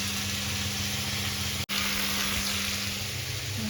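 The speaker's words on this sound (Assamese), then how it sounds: "নহৰু দি পেলাই ভাজিম।" Garlic frying in hot oil with cumin and cardamom, a steady broadband sizzle that runs throughout with a low hum underneath, interrupted once by a brief dropout.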